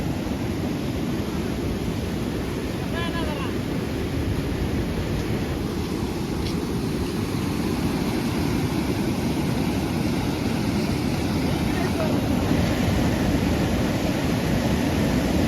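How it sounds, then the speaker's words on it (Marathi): Water overflowing the Mehkari dam during flooding makes a constant, loud broadband roar with no break, like rushing surf heard close by and unaccompanied by any voice. "मेखरी धरण ओव्हरफ्लो झालेलं आहे"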